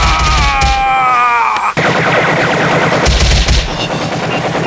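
Sustained gunfire in an anime fight scene as Takeda Kanryu fires on a group, loud dense bursts of rapid shots that run almost without a break for several seconds over a rumbling low-end backdrop.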